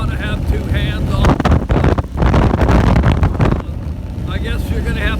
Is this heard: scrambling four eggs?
no